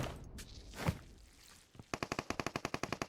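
Gunfire in PUBG Mobile, with a rapid burst of about a dozen evenly spaced automatic shots after a second of quieter game noise and a few stray bangs.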